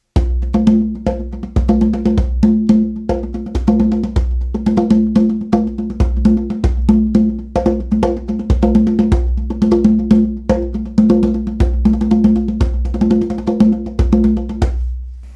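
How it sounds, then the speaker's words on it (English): Hand drums played very quickly in a fast, complex, continuous pattern of dense rapid strokes with a steady low tone underneath, loud and close with no talking. "I'm using drums and I'm playing very quickly."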